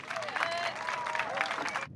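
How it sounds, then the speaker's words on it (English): Audience applause and cheering fill a crowd at a summer evening literary and music event honoring a poet's performance, steady dense clapping that carries on before stopping abruptly near the end. "Can we please give Eileen Myles another big round of applause?"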